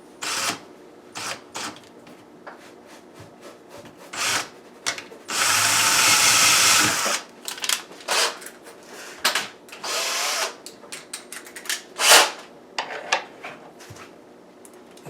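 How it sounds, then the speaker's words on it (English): A power drill pre-drills through wood while base kitchen cabinets are being installed, opening with a run of short clicking bursts, then a loud sustained whir lasting about two seconds, followed by more brief taps and ratcheting clicks, close and without speech. "We're going to just drill through the wood."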